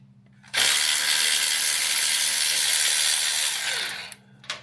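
A Milwaukee cordless power tool runs in one loud, steady burst of about three and a half seconds, close up, then winds down and stops, followed by a short clatter.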